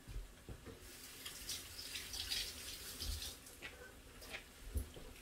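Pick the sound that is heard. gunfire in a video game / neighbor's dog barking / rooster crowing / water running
water running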